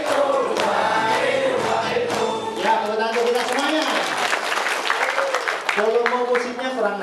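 An audience claps at an Indonesian motivational event, the steady applause blended with loud music and raised voices throughout.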